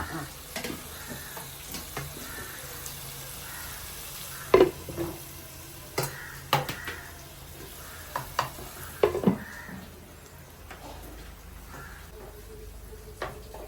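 Onions sautéing in a pan for a home-style fish curry, with a steady low sizzle broken by intermittent scrapes and knocks as a spoon stirs them, close by and with no talk.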